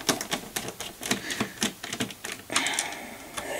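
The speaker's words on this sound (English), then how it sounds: "So let's continue to take out these four screws." Screws are taken out of an Optus NBN modem during a teardown, producing a series of sharp close clicks and ticks in an irregular rhythm, with a brief rustling clatter partway through.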